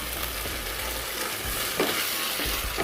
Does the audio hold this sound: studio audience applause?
no